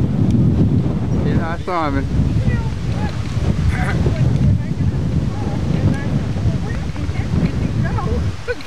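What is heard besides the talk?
wind blowing outdoors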